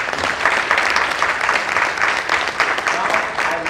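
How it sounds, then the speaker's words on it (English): An audience at a Women's Day gala reception gives a big round of applause, dense clapping from a crowd, loud and continuous with slight surges, mixed with a murmur of voices. "Please give them a big round of applause."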